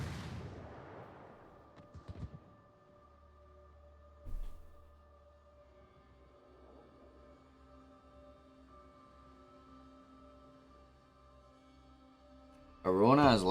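Naval gun shells fire in a warship battle game, heavy booming blasts at scattered moments against a low engine hum, with a commentator's voice cutting in at the end.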